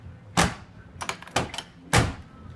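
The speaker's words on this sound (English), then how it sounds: "both of the doors still open and shut good" Doors of a crash-damaged 1965 Ford Mustang being shut, several solid thunks with rattling metal, heard close and fairly loud, spaced about half a second to a second apart.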